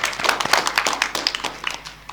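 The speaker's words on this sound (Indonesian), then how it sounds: "Boleh tepuk tangan." Audience applause at an environmental discussion forum, a couple of seconds of quick, uneven clapping from a moderate crowd with sharp individual claps standing out, fairly close and fading slightly at the end.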